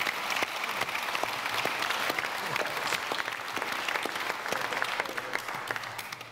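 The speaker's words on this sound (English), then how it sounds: "So if we could give a round of applause to our" An audience at an ICT summit on digital innovation applauds the conference panel presenters, giving sustained, dense clapping from a sizeable crowd that fills the whole stretch at an even level.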